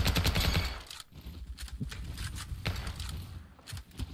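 A video game gun with a 30-round magazine fires rapid bursts of automatic gunfire, a dense crackling volley at first and then sparser shots and short bursts, close and sharp.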